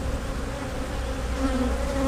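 Honeybees buzzing close up during a March hive inspection, a dense, continuous droning hum with slight swells in pitch and volume, and no talking.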